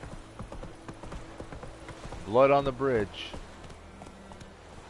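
Steady horse hooves clip-clop at a walking pace in The Witcher 3, a quiet rhythmic patter continuing beneath a brief burst of spoken dialogue.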